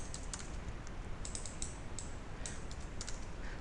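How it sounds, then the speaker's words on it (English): Fingers typing on a computer keyboard, a quick, irregular run of light clicks at close range with no talk over them. "I'll just type Rick"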